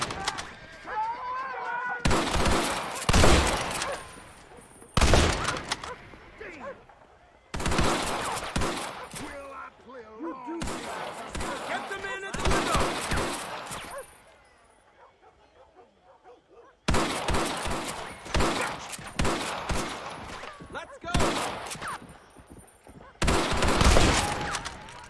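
Video game shootout in Red Dead Redemption: repeated loud, close bursts of gunfire and rapid volleys, separated by short lulls, with possible barking in between.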